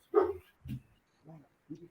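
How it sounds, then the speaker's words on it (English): A dog gives a few short, muffled barks spaced apart in the background of a call-in phone line, fairly faint and thin. "Sounds to me like there's some attack dogs going on."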